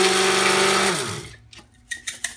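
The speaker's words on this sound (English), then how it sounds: "And now I put it in my little blender." A small blender grinds black sesame seeds for raw tahini, a loud steady motor whine that drops in pitch and winds down, followed by a few sharp knocks and rattles.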